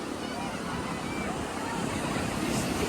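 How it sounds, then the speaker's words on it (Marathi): Ocean surf at Alibag washing and roaring steadily, a continuous broad rush of waves mixed with gusty wind buffeting the microphone. "समुद्राच्या लाटा बघा"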